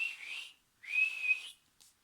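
A person gives two long, high whistles to call a sheepdog in a field, the second rising and held longer, followed by a faint short chirp, with no talk.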